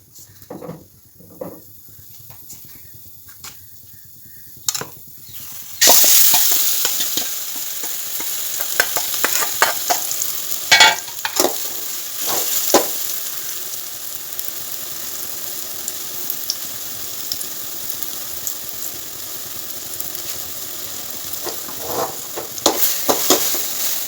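Ghee hits a hot pan for a coconut-free roast: a quiet start gives way to a sudden, steady close-up sizzle, with scraping stir strokes and small clicks running through it.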